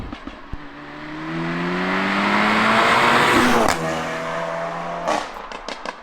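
A 475bhp Audi S3 launches hard on launch control, its engine rising to a loud, sustained roar with the wheels spinning, then cutting to a lower drone and a few sharp pops and crackles near the end.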